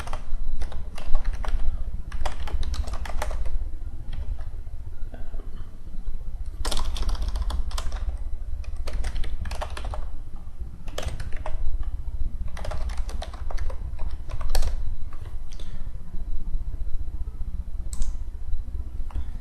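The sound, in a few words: typing a password on a computer keyboard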